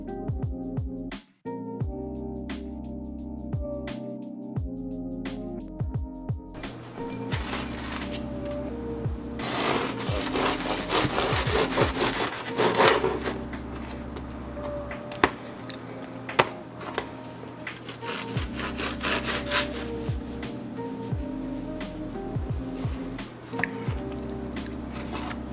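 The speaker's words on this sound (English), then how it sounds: "I'm gonna shut up so you guys can hear the sound of the bread" Crusty bread for an Italian beef sandwich sliced with a knife, close up; a long run of crackly, crunching sawing strokes repeating steadily for over twenty seconds with a faint hum beneath.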